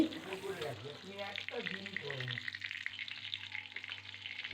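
Beans and a boiled potato fry in a pan, a steady sizzle with stirring scrapes running throughout, while someone talks over it for the first few seconds.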